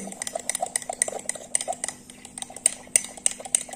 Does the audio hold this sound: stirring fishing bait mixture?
yes